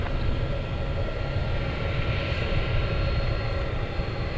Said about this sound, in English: Take a peek at this A300 coming at us here.